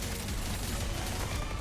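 Gunfire in Turbo Overkill, a loud unbroken stream of rapid shots filling the moment with dense, noisy energy.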